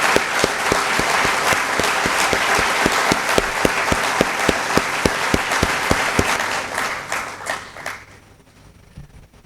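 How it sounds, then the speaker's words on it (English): Loud, sustained applause from a large audience at a talk, dense clapping with sharp individual claps standing out, continuing for several seconds before fading away near the end. "First give him a big hand,"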